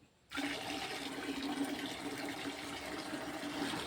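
Liquid jaggery mixed with rice water poured out in one steady gush that starts abruptly and keeps flowing evenly, close and moderately loud, with no voices over it.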